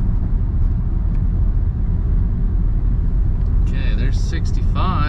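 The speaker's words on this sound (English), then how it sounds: "Give her all 140 horsepower on this baby." A 140-horsepower car under full throttle gives a steady, loud engine roar with road rumble from inside the cabin, while a person talks and whoops over it near the end.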